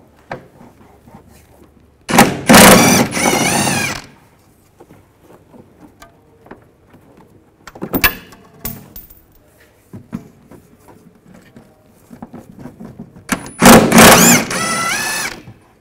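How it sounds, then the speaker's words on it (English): A power tool on a 16 mm socket spins out the upper rear shock absorber bolts of a 2006-2010 Volkswagen Jetta. It gives three loud whirring bursts, with quiet clinks and handling sounds in between. "Take these two bolts out."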